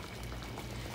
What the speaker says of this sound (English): it has been boiling for about 10 minutes now